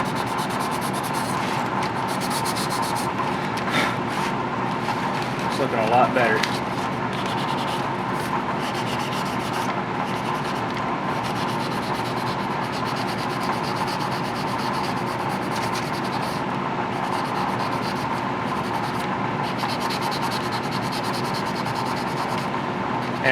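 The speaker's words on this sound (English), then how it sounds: "I'm gonna just kind of sand over it gently to get all the raised edges here" Gentle hand sanding over raised edges on a scale model; a continuous, soft, even scratchy rub that carries on steadily throughout, with a brief spoken remark near the start.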